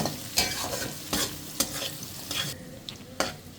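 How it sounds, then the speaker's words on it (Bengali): Something fries in a pan at breakfast-cooking pace, a soft continuous sizzle broken by several sharp scraping stirs of a spoon, near and without any talking. "হালকা ব্রাউন কালার হলে হওয়া পর্যন্ত আমি এটা একটু ভেজে নিব"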